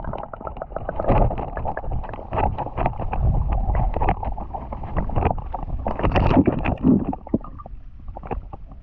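Airboat ride at Everglades City, Florida, carries a low, rumbling engine drone with wind buffeting the microphone, loud and continuous throughout.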